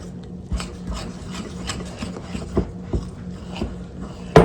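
Hands kneading a wet dough of yeast, water, flour and salt, soft squelching and slapping at close range with a few sharper thumps and a louder smack at the end.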